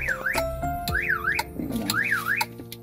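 A car alarm sounds, set off by a faulty, overly sensitive remote key: a loud, close electronic siren that warbles up and down in repeating cycles, broken by sharp clicks and short tones.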